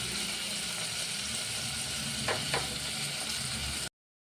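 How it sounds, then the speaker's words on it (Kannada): Tomatoes sizzling in a pan for masala, a steady close frying hiss with a couple of brief stirring scrapes near the middle before it cuts off. "ಅದು ಚೆನ್ನಾಗಿ ಫ್ರೈ ಆಗ್ತಿದೆ"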